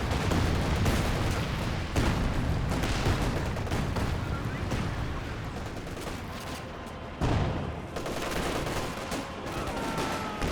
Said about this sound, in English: Got another high barrage there.